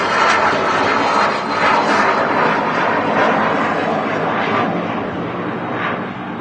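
An Emirates airliner's engines, a loud constant roar and hum close by that holds steady and fades slightly toward the end, with no voices.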